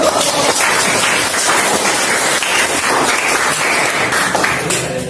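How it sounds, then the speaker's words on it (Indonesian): Classroom students applauding a group about to present, loud dense clapping throughout, continuous and close, with no talking. "Oke, kasih tepuk tangan, kasih aplaus."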